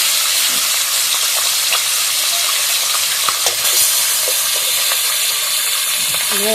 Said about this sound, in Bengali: তেলটা ভালোভাবে গরম হয়ে গেছে। এবার আমি মাছের কাঁটাগুলো দিয়ে দেবো।